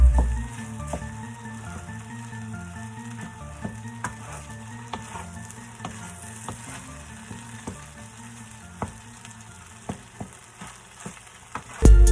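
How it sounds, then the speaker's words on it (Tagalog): Egg fried rice fries in a hot pan while clumped rice is broken up, with a continuous loud sizzle and repeated sharp scrapes and taps of the utensil against the pan. "At dapat durugin natin lahat ang mga namumuong mga kanin para mas masarap at mas maganda"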